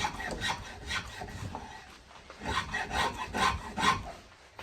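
A spokeshave shaves along a wooden guitar neck in repeated rasping strokes, steady and close, with short pauses between passes and no talking.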